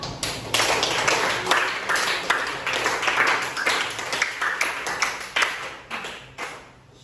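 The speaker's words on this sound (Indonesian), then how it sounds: "Tepuk tangan buat kalian semua yang sudah berani maju ke depan." A class claps together in a dense, steady burst of applause indoors that gradually thins and fades out toward the end.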